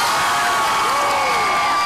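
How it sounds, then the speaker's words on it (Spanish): A dense wash of crowd noise at a live children's show, cheering and whooping blended with scattered clapping, loud and continuous throughout. "¡Aplausos para él!"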